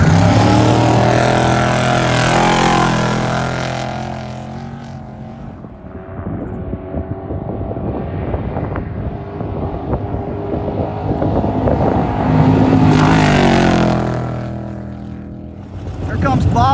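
Trophy truck converted from an old Class 8 truck racing in a desert off-road event, its roaring engine rising as it approaches, fading as it passes into the distance, then swelling again, with heavy wind noise on the microphone.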